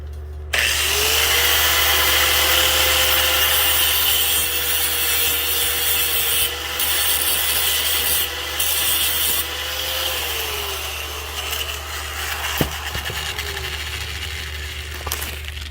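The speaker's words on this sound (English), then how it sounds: "I'm going to use my grinder for right now." Angle grinder working on the exhaust pipe of an Onan generator on a 2022 Tiffin Allegro RV, a loud steady grinding whine lasting about ten seconds before easing off into a rougher, tapering buzz with a sharp knock near the end.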